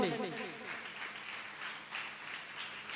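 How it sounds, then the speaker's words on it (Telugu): A congregation at a Sunday church service claps hands together, a lively burst of applause that swells and rolls on, heard at moderate distance beneath a speaking voice. "నమ్మిన వారందరూ చప్పట్లు కొట్టండి."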